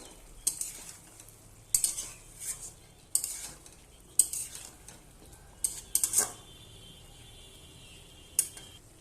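Pointed gourd and drumstick pieces being sautéed in a pan: soft sizzling under repeated sharp scrapes and clinks of a spatula against the metal, several irregular stirring strokes spaced a second or so apart, close and moderately loud.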